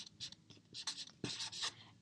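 A pen writes on paper in short scratchy strokes, close and fairly quiet, with brief pauses between bursts of scribbling.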